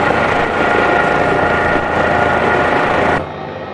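An Airbus H135 helicopter in Microsoft Flight Simulator 2020 produces a loud, steady engine and rotor roar that continues for a few seconds and then drops abruptly in level, with no talk.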